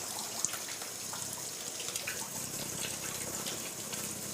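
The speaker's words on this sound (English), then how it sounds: "then I wash my hands with soap." A kitchen tap runs steadily during handwashing with soap, a soft continuous hiss of water with a few faint clicks and splashes, no talking.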